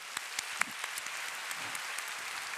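Congregation applause at a church youth service, a scattered burst of hand claps with a few sharper individual claps standing out, moderately loud and brief, with no talking over it.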